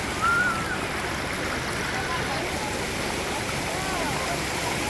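Water diverted through a small channel at a play area in Salalah keeps up a steady, even rush for the whole stretch, with faint voices in the background.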